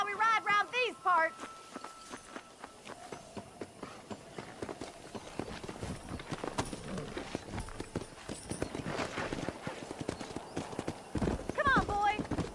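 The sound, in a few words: horse hooves galloping in Red Dead Redemption video game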